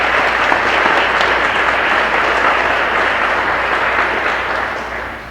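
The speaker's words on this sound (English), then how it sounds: "let's give them a round of applause for supporting us" Sustained applause from a large audience at a concert wind band performance, dense and steady clapping that fills the space before tapering off slightly at the end.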